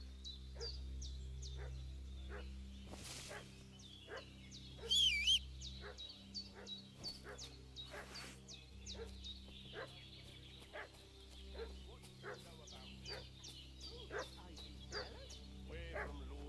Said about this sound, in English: that dog making such a fuss about?